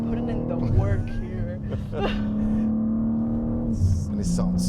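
A manual BMW M3 CS engine drones steadily from inside the cabin, holding a firm pitch that shifts slightly as the car pulls, while people talk over it.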